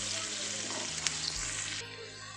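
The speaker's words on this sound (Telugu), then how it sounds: "ఇవి బాగా గోల్డెన్ కలర్లో ఫ్రై అయిపోవాలి." Onions frying in a pan while preparing mutton lungs fry, a steady close sizzle with a few stirring scrapes and clinks, no voices.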